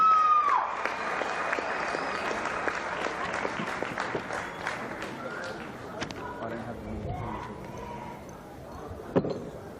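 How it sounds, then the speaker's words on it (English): A football crowd at a Men's Premier League grand final presentation applauds a club with sustained, busy clapping and crowd noise that gradually thins out, ending with a single sharp knock. "ladies and gentlemen, please, round of applause"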